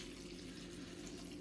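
White vinegar being poured over eggplants in a kitchen, a steady, quiet stream of liquid splashing evenly for a moment without talk.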